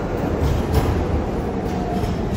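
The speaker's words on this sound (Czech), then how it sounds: "tohle je nejstarší dráha metra na evropském kontinentu" Rumble of a metro train on the Budapest underground, the oldest metro line in continental Europe: a steady, loud, broadband roar with rolling low rumble filling the whole stretch, close by.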